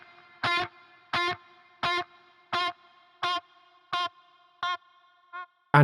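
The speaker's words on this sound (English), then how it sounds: "I'm using this post layers preset that I made, which is making use of the tape echo." Electric guitar layers played through a tape echo preset ring out as seven evenly spaced chords, each with a bright attack and ringing tail, then a fainter echoed repeat and a final loud hit.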